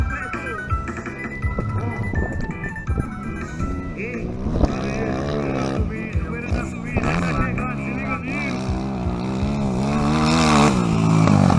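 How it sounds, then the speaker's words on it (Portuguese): A motocross motorcycle with a stuck throttle revs hard and continuously at an outdoor dirt track, engine note rising and wavering, close and loud with wind noise and some talk over it. "A moto dele tá com o acelerador travado"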